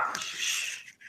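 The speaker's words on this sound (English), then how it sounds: "We just got a dog, and for some reason she's barking at something." A newly adopted dog gives a single loud, close bark, a short harsh burst that quickly trails off.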